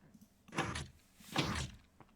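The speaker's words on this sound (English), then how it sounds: "I heard two pistons open" Two Minecraft pistons push out one after another, each a short muffled mechanical whoosh about a second apart, moderately quiet.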